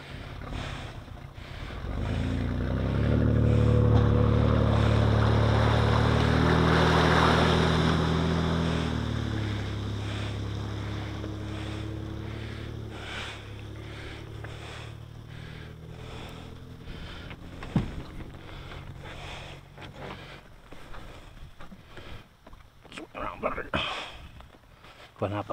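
A boat on open water gives a loud engine drone and rushing water that swell, then ease into a lower steady hum with splashes, recorded close up with voices talking over it.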